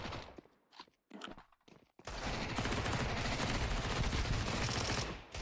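Rapid automatic gunfire from the Counter-Strike video game, a few scattered shots and footsteps, then a long sustained loud burst of continuous firing lasting several seconds.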